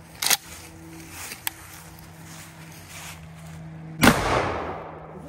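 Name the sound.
gunshot firing shotgun slugs at steel armor plate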